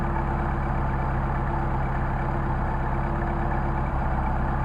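An engine fitted with Solex carburetors idles steadily at a little above 800 RPM, a dense, even rumble with a low, unchanging pulse that stays loud and close throughout, with no talking.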